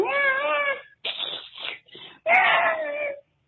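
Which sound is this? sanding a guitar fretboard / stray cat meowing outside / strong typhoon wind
stray cat meowing outside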